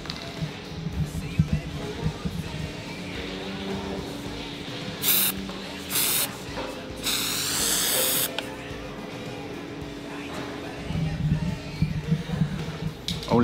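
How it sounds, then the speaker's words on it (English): Several sharp bursts of aerosol spray hiss out in quick succession as cows are marked on a farm, the last one longer, over a busy background of rumbling and low voices. "We just need to spray the cows"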